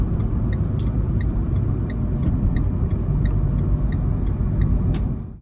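A Renault Clio 4 1.5 dCi diesel with EDC automatic gearbox drives along a road, a steady close engine and road rumble with faint regular ticking throughout, no talk.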